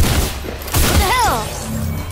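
Assault rifle fire in the video game Fortnite comes in quick, punchy bursts, close and loud, while a player's voice talks over the shots.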